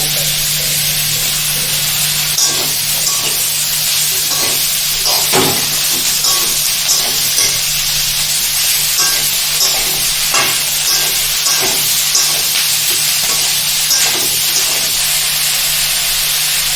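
Sago khichdi with chopped tomato and capsicum sizzles in a pan, a continuous hiss of frying broken by repeated scraping taps of a spoon stirring, close and steady with no talk.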